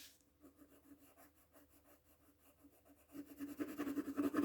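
A soft 6B graphite pencil rubs and scratches across paper while a sketch is shaded, in quiet, close strokes that quicken and grow louder and denser toward the end.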